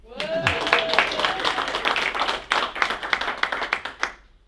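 Audience clapping at a slam poetry tournament, a fairly dense round of hands near the mic that keeps going for several seconds, with a voice heard briefly at the start.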